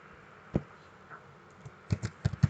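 Computer keyboard typing at a desk, a few soft isolated key taps followed by a quicker cluster of clicks near the end, close and quiet with no talk.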